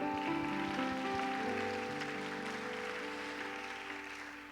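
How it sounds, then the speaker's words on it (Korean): A church congregation claps to welcome newcomers during a Sunday service, a steady wash of hands over sustained musical tones that holds, then slowly fades toward the end. "우리 박수로 함께 환영하겠습니다"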